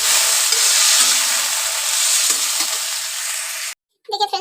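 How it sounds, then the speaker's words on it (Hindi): Vegetables sizzle and crackle steadily in a hot pan just after tempering in a home kitchen, a loud continuous hiss that cuts off abruptly near the end before a brief clatter. "मैंने सब्जी छौंक दिया है और मेरा पक जाएगा।"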